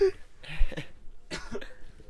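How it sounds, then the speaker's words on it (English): A few rough coughs close to the microphone, two short bursts separated by a brief pause. "I'm coughing so much."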